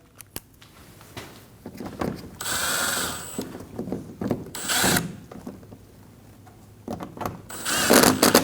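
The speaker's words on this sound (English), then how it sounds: "Install the screws up through the bumper. Get them nice and snug." Screws being tightened up through the bumper of a 2012-2022 Volkswagen Passat during an AC condenser install, heard as bursts of ratcheting clicks separated by short pauses, close and moderately loud, with no talking.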